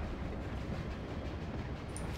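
A train rolls along steadily in a haunted-themed video game, a dense, continuous low rumble with faint rattling that stays level and close throughout, with no voices over it.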